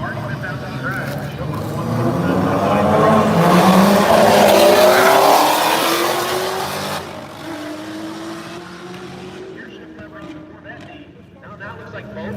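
Drag race cars, including a GTR, launching and accelerating down the track, a loud engine roar that builds and fades with a rising pitch sweep and a gear change, with a commentator talking throughout.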